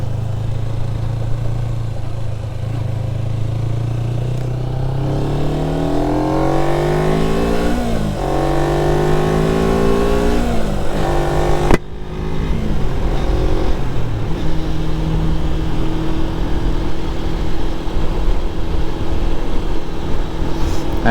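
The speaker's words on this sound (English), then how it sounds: "the bike is running so much nicer since I did the carby kits on it" Motorcycle engine under way, recently fitted with carburettor kits, droning steadily with rising and falling pitch sweeps as the rider shifts and accelerates, loud and continuous with a brief drop near the middle.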